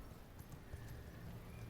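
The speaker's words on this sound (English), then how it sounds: "I'm gonna get my horse." Horse hooves clip-clop in a steady rhythm with a brief whinny in V Rising, the vampire survival game, fairly close and clear over a low background hum.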